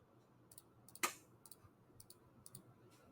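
Numbers are keyed into a handheld calculator, a series of faint, light clicks spaced irregularly, with one sharper tap standing out near the start in a quiet room.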